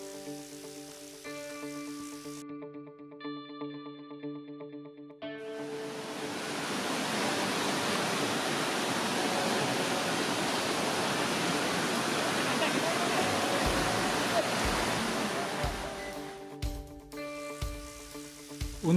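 Fast-flowing river rapids deep in Borneo jungle, a loud, steady broadband rush of water that swells in after a quieter opening with tonal music, holding constant for over ten seconds before music returns near the end.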